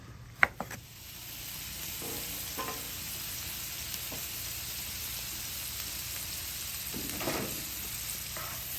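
Thin steak sears on a griddle with a steady, close sizzle and frying hiss, broken by a few clacks and scrapes of a utensil.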